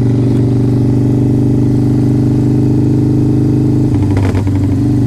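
A Harley-Davidson Softail Standard motorcycle being ridden, a loud, steady, low V-twin engine rumble close by that holds an even throb and shifts briefly near the end.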